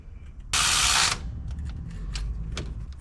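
A ratchet wrench clicks rapidly and loudly in one burst while tightening 15 mm engine tensioner bolts, followed by a few faint metallic taps in a quiet workshop.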